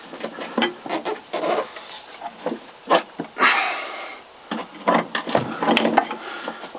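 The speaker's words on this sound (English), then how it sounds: "See, it's unscrewing." Folkboat keel bolt being turned out one-handed with a wrench, giving irregular creaks and gritty scrapes in short bursts, close and fairly quiet.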